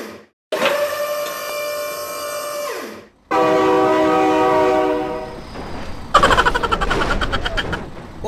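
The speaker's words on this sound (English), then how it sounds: "Oh my god, train!" Train in the BeamNG.drive driving game roars past with a long, loud horn blast, then steady rumbling and clattering wheels as the cars pass close by, ending in denser rattling.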